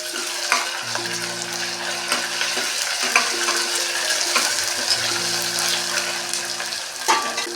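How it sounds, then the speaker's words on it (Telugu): Curry leaves, onion and ginger paste sizzle steadily in a pan for an ivy gourd masala curry, with repeated stirring scrapes over a constant close frying hiss. "కరివేపాకు వేసుకొని మంచిగా కలుపుకోవాలి అలాగే ఇందులో అల్లం పేస్ట్ కూడా వేసుకోవాలి"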